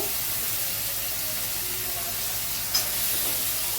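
Chopped onion and papaya hit a hot pan for a vegetable dalia, giving a steady, even hiss of sizzling with a brief clink partway through and no talk.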